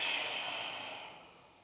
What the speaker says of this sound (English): Deep full breath.